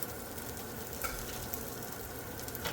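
Forty-year-old hash browns from 1978 fry in butter in a pan, giving a steady, close sizzle with faint scrapes of stirring. No one speaks.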